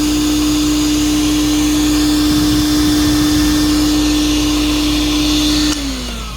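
A Tristar CXL two-speed vacuum cleaner runs with a loud, steady whine and rushing airflow, then the pitch drops suddenly near the end as it shifts down.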